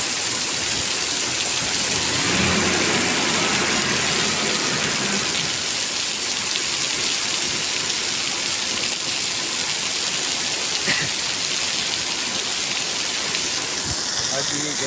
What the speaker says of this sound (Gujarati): જોરદાર એન્ટ્રી વરસાદની એકદમ આનંદ આવી રહ્યો છે